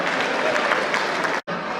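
At a Meena Tribal Welfare Association gathering in Chandigarh, a hall audience breaks into loud, dense, sustained clapping for officials and staff, then stops abruptly for a moment before resuming.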